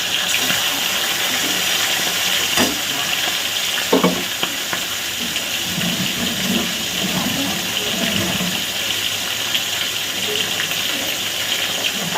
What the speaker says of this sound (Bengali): প্রথমে মাছটাকে ভেজে নেবো